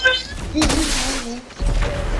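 A couple of booming Fortnite in-game firework bursts with crackling tails go off in quick succession, loud and close, with a voice mixed in.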